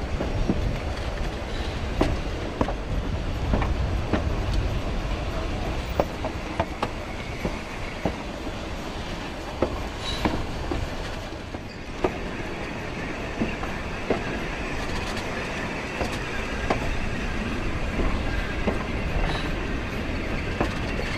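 Steam train running along the High Line, a narrow shelf high above the Animas River, its steady rumble and rhythmic clickety-clack of wheels on rail loud and continuous, with occasional sharper clanks and faint squeals.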